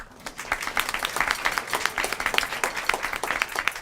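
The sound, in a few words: applause for the community band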